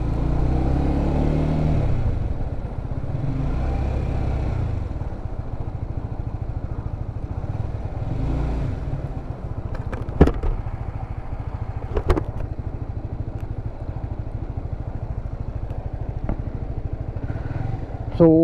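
A motorcycle pulls away and rides on, its engine a loud, steady drone with a few sharp clatters. Someone talks over it for much of the time.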